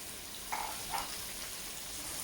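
Tofu pieces fry in vegetable oil, giving a steady, moderate sizzle and crackle with a couple of brief clinks near the start.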